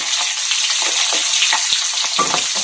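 An egg frying in hot oil with salt, turmeric and red chili powder, a loud, steady, dense sizzle and crackle close up with no one talking.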